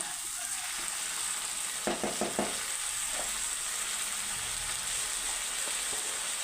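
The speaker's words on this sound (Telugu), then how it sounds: "నేను పెసరపప్పు యాడ్ చేసుకుంటున్నాను ఆ ఫ్రైలోకి" Ponnaganti greens and moong dal stir-fry in a pan with a steady, close hiss of frying, broken by a few quick scrapes and stirs of a spoon.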